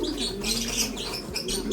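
Pigeons coo in a loft, a soft, low, rolling coo under some faint higher chirps and rustling, close and brief with no speech.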